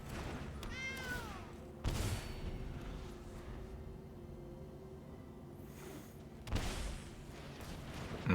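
A cat meows once in the video game MTG Arena, a short rising-falling cry over quiet game ambience, followed by a couple of soft thuds.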